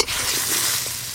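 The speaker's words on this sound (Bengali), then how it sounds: "কচুগুলো বেশ ভালো করে ভাজা ভাজা হয়ে গেল।" Taro pieces are stirred and fried in hot oil, giving a brief, close burst of dense sizzling with a soft stirring rustle and no voices.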